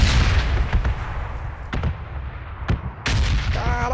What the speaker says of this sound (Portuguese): essa bomba tá muito forte